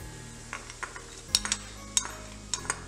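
Besan (gram flour) being roasted in ghee and stirred in a pan over a low flame for besan ladoos, with soft scraping and several sharp clinks of a spoon against the pan over a faint steady hum.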